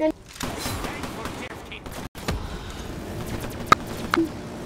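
Shotgun blasts go off in a giant-zombie video game as a few sharp, separate bangs over background game noise, with a voice speaking briefly.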